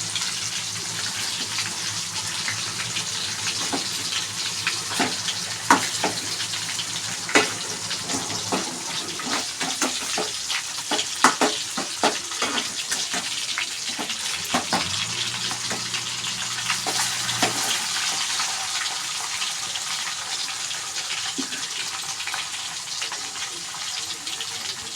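Pieces of fish sizzle steadily in a hot pan over a medium flame while frying crisp, a constant hiss broken by scattered sharp pops and crackles, close and fairly loud with no talking.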